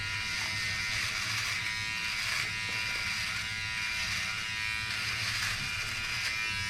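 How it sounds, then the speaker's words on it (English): A Philips OneBlade electric razor buzzes steadily while shaving off a beard, a continuous close, loud motor hum with slight shifts in tone as the blade moves over the stubble, no talking. "I've been able to shave off my beard"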